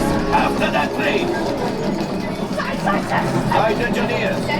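A ride-simulated train on the Millennium Falcon: Smugglers Run attraction at Disneyland rumbles and rattles steadily close by, with a busy mechanical clatter throughout and no clear talk on top.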